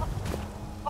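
A chicken in the Skyrim video game gives short clucks, faint and brief, at the start and end of a quiet second of game ambience.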